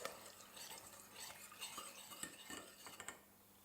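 A spoon stirs milk into a cheese sauce in a pot, giving faint, quiet clinks and scrapes of metal against cookware in an irregular rhythm.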